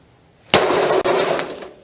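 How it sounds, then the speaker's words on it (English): Harbor Freight Quantum flashlight smacked into a block of ice, a sudden sharp crack and crunching shatter, two quick hits close together, loud and near. "let's try and get this this here ice opened up without smacking the side of the cart here"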